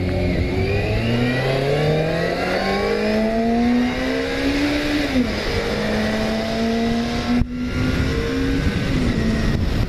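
A Yamaha FZR motorcycle on a road ride, its engine droning loudly and steadily and rising in pitch as it accelerates through the gears, with a brief dip at a shift, wind rushing throughout and no talking.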